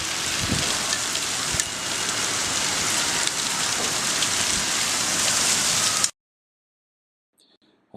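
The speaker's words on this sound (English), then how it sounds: "hailstorm" A hailstorm in Jerusalem makes a loud, dense, steady pelting roar with a few heavier thumps, lasting about six seconds before cutting off abruptly into silence.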